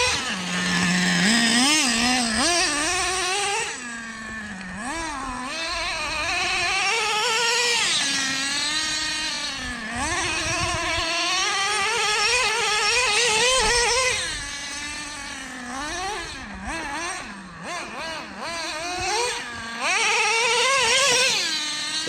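A Traxxas Nitro Revo RC truck's small nitro engine screams and revs continuously on a wet post-rain bash, its pitch rising and falling in sharp whining sweeps, loud and close throughout.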